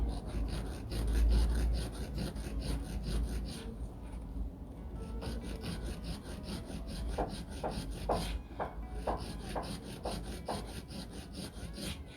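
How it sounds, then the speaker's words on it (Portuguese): Steady rasping strokes of a nail file scraping back and forth on a polygel nail, close up, with a run of quicker, crisper strokes toward the end. "Depois eu vou vir lixando as paredes laterais"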